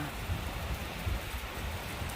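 Steady rain falling on a surface in the afternoon, a dense, even patter that continues without break and stays moderately loud throughout.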